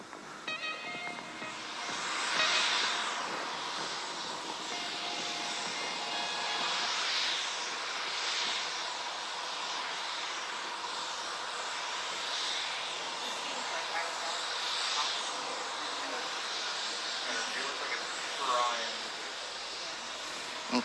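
A steady, powerful engine roar fills the whole stretch, broadband and continuous with slight swells, from a single SpaceX Raptor rocket engine firing during a spacecraft hover, heard at a distance.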